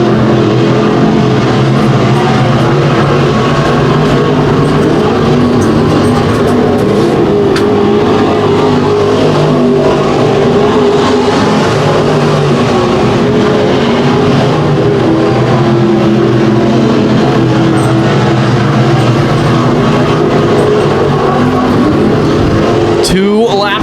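Modified race cars roaring around Boyd Raceway during a race, several engines droning loud and continuous in a dense, unbroken wash, with a commentator talking over them throughout.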